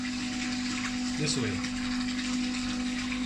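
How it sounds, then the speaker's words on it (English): A borehole water pump runs with a steady mechanical hum and watery rush, while a person speaks briefly in the middle. "See, we still have enough water to pump."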